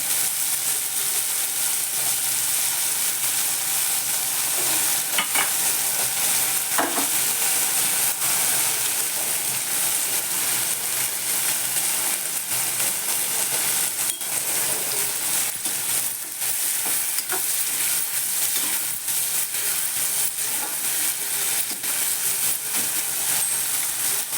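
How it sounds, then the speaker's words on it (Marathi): Cluster beans with tomato being stir-fried in a pan for a potato and cluster bean curry, a continuous dense sizzle with occasional spatula taps and scrapes, close and steady, no voices. "गवार चांगली परतून घ्यायची"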